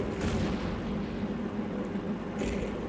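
Tank cannon fire and battle rumble from the World of Tanks video game, with a heavy booming shot near the start and another around the end over a continuous low engine drone.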